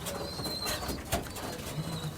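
High-quality pigeons from Uttar Pradesh coo softly and repeatedly amid a steady, noisy background, with brief rustles that may be wings.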